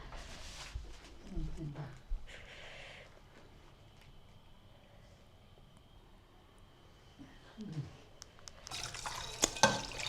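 Tap water runs during washing up at home, a broad hiss that is strongest near the start and again in the final seconds, with quieter gaps and household noise between.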